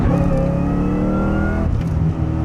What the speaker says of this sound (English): you quieted it down and all you hear is just the blower whine